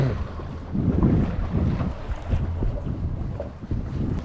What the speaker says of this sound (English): The wind's changed and are going to the north, so it's making it a little bit choppy.